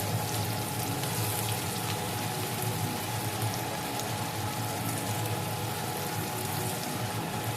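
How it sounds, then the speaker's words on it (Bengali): Onion frying in mustard oil in a pan, a steady, dense sizzle with fine crackling that stays even throughout, close and moderately quiet, with no talking. "পেঁয়াজটা বেশি ভাজবো না আমি সর্ষের তেলে করছি"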